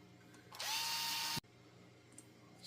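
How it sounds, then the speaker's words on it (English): A power drill whirs loudly in one steady burst of under a second, close by, while working on a Losi LMT 2.0 RC monster truck during a Traxxas shock upgrade, then cuts off into quiet room tone. "Goes a lot faster when you have one of these drills."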